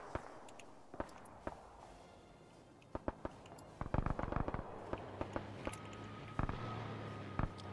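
Bombing run in the Iron Front war game with a bomb dropped on a barricade, heard as scattered sharp cracks and pops that thicken into a dense crackling cluster midway, then a steady hum with a few more sharp bangs.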